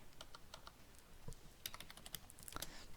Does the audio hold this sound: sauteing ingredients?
no